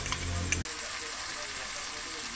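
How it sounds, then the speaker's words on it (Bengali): Tomato with ginger-garlic paste sautéing in a pan, a steady close sizzle that carries on after a brief clatter near the start. "টমেটোটা দিয়ে দিলাম, দিয়ে আর একটু কষানো হচ্ছে।"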